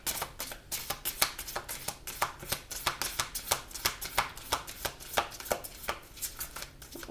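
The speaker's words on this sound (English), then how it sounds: "Let's get a good shuffle." A deck of oracle cards being shuffled, giving a steady run of quick, crisp riffling flutters that repeat about every half second, close up and fairly quiet, with no talking.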